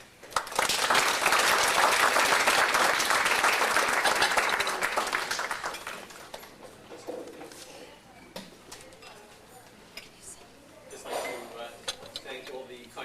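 A conference audience gives a strong burst of applause to welcome a speaker, sustained for about five seconds before fading into clinks of dishes and cutlery and quiet room noise, with a brief return of applause near the end.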